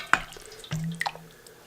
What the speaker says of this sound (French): je vais utiliser une louche pour vraiment bien filtrer le bouillon